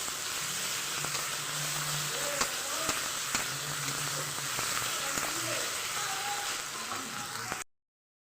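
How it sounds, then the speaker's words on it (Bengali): Ginger-garlic paste fries in a pan for fish curry, hissing in a constant close sizzle with periodic scraping stirs, then cutting off abruptly into silence. "তো এরপর আমরা আদা রসুনের যেটা পেস্ট বানিয়ে রেখেছিলাম সেটাই দিয়ে দেব। দিয়ে আবারও বেশ ভালো করে নাড়াচাড়া করে নিতে হবে।"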